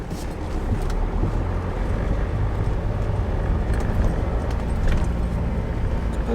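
A converted campervan driving off on its first test run, a steady engine and road rumble with wind buffeting the microphone, no speech.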